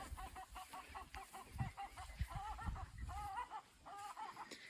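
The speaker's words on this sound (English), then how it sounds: "We've got some very noisy chickens." Hens on a smallholding cluck and squawk in a noisy, repeated chatter, fairly close and continuous, with an outdoor background hum and no talking.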